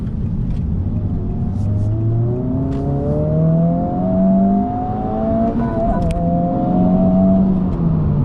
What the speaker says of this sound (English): we'll do another little quick pull here so you can get more of an idea